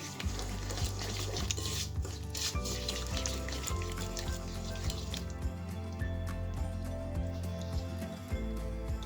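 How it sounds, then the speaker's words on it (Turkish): Eggs and sugar for cookies being whisked by hand in a bowl, a continuous fast rhythmic scraping and tapping with frequent clicks of the whisk, close and fairly loud. "Sonra şekerimi elimle çırpıyorum."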